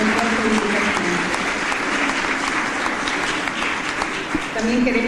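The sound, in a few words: audience applause at symposium closing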